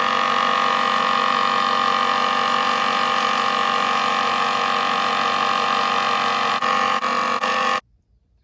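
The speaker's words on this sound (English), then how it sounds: "let's take these over to the bandsaw and get them cut off" A bandsaw cuts pieces of polypropylene plastic made from straws, giving a loud, steady mechanical drone that runs continuously before stopping abruptly near the end.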